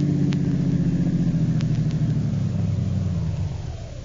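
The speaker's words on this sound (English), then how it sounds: "Turn into the workyard and park in our garage." A car engine rumbles close by as it pulls into a workyard garage in a radio drama, a steady mid-pitched drone that slowly winds down and fades toward the end.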